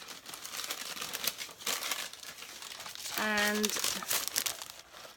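Pink tissue paper in a Glossybox beauty box crinkles and tears close up, a sharp rip standing out midway, while someone speaks briefly over it.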